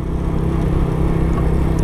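An Italika SKY motorcycle's engine runs during a test ride, a steady, close, low droning hum that holds level throughout with no talk.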